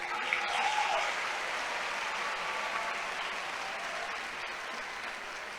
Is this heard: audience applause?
yes